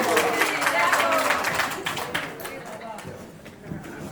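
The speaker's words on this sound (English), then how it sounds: "Round of applause again, please. One more time." A dinner-gathering audience at a question-and-answer event with Ousainou Darboe gives a round of applause, the dense clapping strongest at first and thinning toward the end amid crowd voices.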